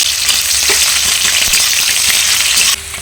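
Chopped onion and panch phoron five-spice hit hot oil in a village-style pan for papaya and potato shukto, giving a loud, close, steady frying hiss that drops in level just before the end, with no talk.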